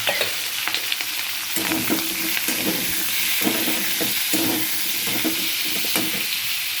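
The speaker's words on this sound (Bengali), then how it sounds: "দিয়ে দিলাম দুটো কেটে রাখা কাঁচা লঙ্কা এবার দিয়ে দেব আলু আর ক্যাপসিকাম" Potatoes and capsicum sizzle loudly in a pan with green chillies while a paneer dish is cooked: a dense, continuous hiss broken by scraping stir strokes.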